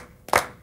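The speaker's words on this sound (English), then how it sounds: "Let's clap our hands." A single sharp hand clap during a rhythm exercise, close and crisp, standing alone in a quiet room.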